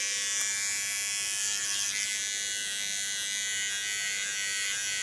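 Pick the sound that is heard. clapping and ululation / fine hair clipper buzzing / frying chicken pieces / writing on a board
fine hair clipper buzzing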